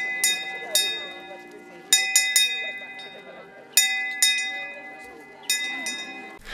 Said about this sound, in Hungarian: az udvaron megkongatták a harangot